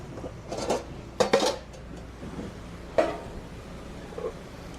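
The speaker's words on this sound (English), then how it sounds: "Transfer it into a ninth pan." Sauce being moved into a ninth pan, a metal kitchen container, with scattered clinks and scrapes of a utensil against metal over a steady background hum, close and moderately loud, without talk.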